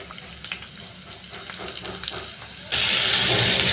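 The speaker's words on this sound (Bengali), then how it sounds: "করলা ভাজি করছি।" Bitter gourd (karela) frying in a pan, with potato added, a low sizzle that abruptly swells into a loud, bright hiss partway through, near and steady with no voices.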